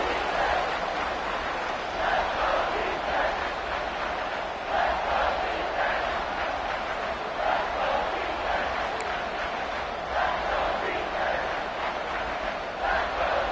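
Loud football stadium crowd roaring on third down, a steady dense wall of cheering and noise sustained throughout.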